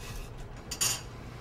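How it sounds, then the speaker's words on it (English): A knife scrapes and taps against a pan while stirring spaghetti sauce with garlic, a brief metallic clink standing out above a low kitchen hum. "We use a knife again. I love to use a knife to stir."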